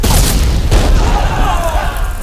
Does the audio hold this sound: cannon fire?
yes